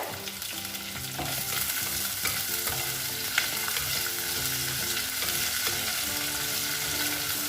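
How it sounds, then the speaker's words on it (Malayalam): Curry leaves and chilies crackle and sizzle in hot oil in a pan for fish molee, a loud, continuous frying hiss with steady stirring scrapes throughout. "ഇതൊന്ന് മൂക്കട്ടെ. ചെറുതായി ഒന്ന് മൂത്താൽ മതി, അധികം മൂത്ത് വരണ്ട."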